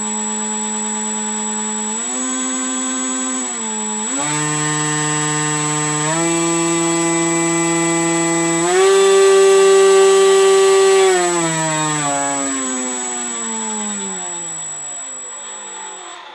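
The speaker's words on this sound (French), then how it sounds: "Et un moteur. Et le moteur." Small electric motor of a SkyArtech SkyFun model aircraft run on a bench test, a steady close whine stepping up and down through several speed levels, peaking loudest near the middle before easing back, with no talking.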